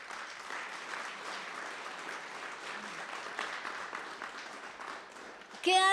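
A church congregation at a Sunday service applauds, with steady, moderately distant clapping from many hands sustained throughout and a voice rising briefly at the very end.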